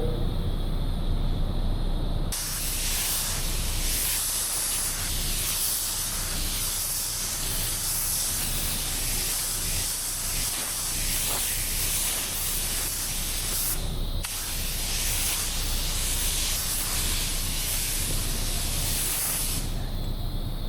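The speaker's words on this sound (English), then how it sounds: "when I get to the edge of my bumper, I always turn my gun upward because I don't want to get paint directly on the edge" A spray gun hisses in long continuous passes while laying clear coat on a Kia K5 bumper, with two short pauses between strokes; the spray is close and loud, with no talking.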